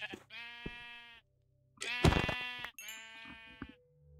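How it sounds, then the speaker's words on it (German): Sheep in the Minecraft video game bleat three times in a row, each call a clear, wavering cry with short gaps between them, loud and alone without talk. "Nur ein Schaf."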